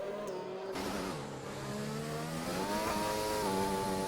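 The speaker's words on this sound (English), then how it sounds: "Ooh, revving really high there." A racing car engine in a video game revs high and climbs through the gears, a steady loud whine rising and falling in pitch as the car accelerates, with no voices over it.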